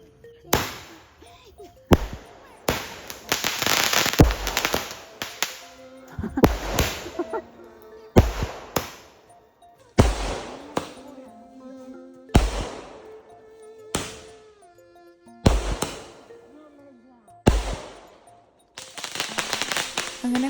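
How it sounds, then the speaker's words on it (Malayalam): Fireworks and firecrackers burst at an Eid celebration in a repeated series of loud, sharp cracks and bangs every couple of seconds, some with crackling sparkle tails, with occasional voices between blasts. "അങ്ങനെ ഫയർ വർക്ക്സോടുകൂടി ഇന്നത്തെ വീഡിയോ അവസാനിപ്പിക്കുകയാണ്"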